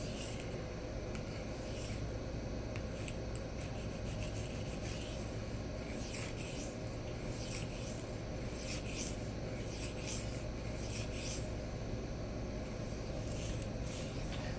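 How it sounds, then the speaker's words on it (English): A Cold Steel san mai VG-1 knife sharpened on an Atoma diamond or Rikon CBN plate, continuous close abrasive rubbing strokes in a steady back-and-forth rhythm, no voices. "while I'm sharpening this knife with a blade shape like this"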